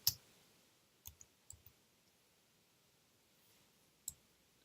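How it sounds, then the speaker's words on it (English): Keys on a stiff computer keyboard click sharply, a handful of sparse, separate presses, one loud at the start and a small cluster after, alone in a quiet room. "This is not my regular keyboard. The keys, you got to push really hard."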